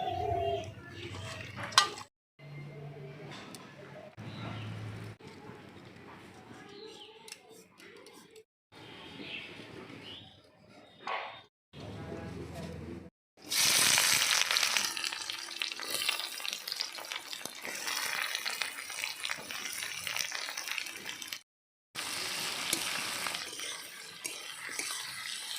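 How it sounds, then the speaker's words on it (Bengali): Onions frying in a pan for a fried-onion chicken dish, with sizzling and stirring mixed with bursts of running water and clattering cookware, choppy and interrupted by short gaps, a voice speaking in places. "এবার আমি পেঁয়াজটা ভেজে নেব"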